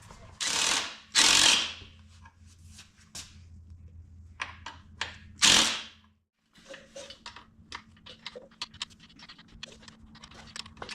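Ratchet and wrench working on a Kawasaki KX 65's rear shock and link plate bolts, bursts of quick ratcheting clicks with a few louder hissing rasps, a low hum and faint background noise between.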